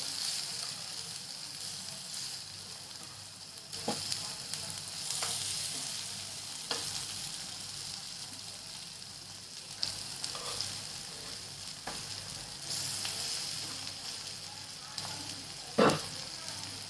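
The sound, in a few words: bottle gourd slices frying in a pan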